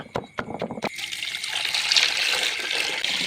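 Water is poured into pounded ground-orchid flowers for colouring rice, beginning with a few sharp knocks and then a steady close trickling, splashing pour, with no talk.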